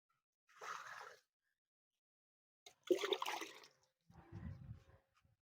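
Banana solution fertilizer is poured from a mug onto eggplant plants in three short, quiet bursts of splashing and trickling liquid, separated by silence.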